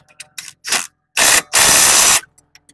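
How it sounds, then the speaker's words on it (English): A 19 mm rear lower control arm bolt being tightened on a Toyota Camry, heard as several short, harsh mechanical bursts of tool noise followed by two longer, loud bursts, with quiet gaps between them and no talk. "now we can go and tighten that rear bolt for the control arm"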